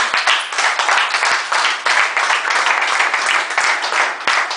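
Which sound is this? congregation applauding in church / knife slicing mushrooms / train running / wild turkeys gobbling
congregation applauding in church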